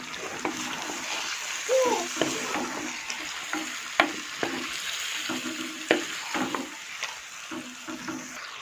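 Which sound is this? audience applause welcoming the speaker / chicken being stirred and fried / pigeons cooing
chicken being stirred and fried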